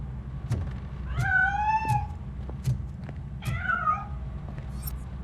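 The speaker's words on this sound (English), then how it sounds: "That cat must be hiding inside." A cat in the video game RoboCop: Rogue City gives two clear, drawn-out meows a couple of seconds apart over a low background hum, fairly close and loud.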